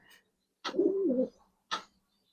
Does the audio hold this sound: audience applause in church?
no